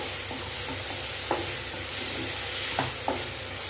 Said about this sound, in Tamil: இப்போ பட்டாணி டபுள் பீன்ஸு உருளைக்கிழங்கு சேர்த்து வதக்கிக்கலாம்